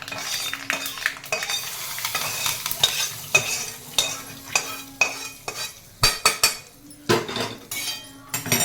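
A spoon stirs a hot seasoning of tempering spices into coconut chana dal chutney. Repeated scraping and clinking against a metal vessel comes in irregular bursts over a faint sizzle, close and moderately loud, with no talking.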